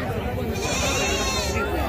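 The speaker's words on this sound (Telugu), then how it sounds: "ఇవన్నీ పోతులు అండి ఇప్పుడు మీరు చూసేటువంటి పోతులు ఇవి" Goats and sheep bleat at a livestock market in Gudur, a wavering bleat rising over crowd chatter, close and fairly loud.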